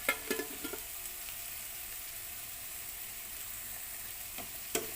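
Capsicum cooking in a pan with a little salt, a faint, steady low sizzle running throughout, punctuated by a few light utensil taps near the start and one sharper clink at the end.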